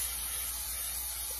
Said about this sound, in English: I'm gonna go ahead and just clean my parts like I always do with some brake clean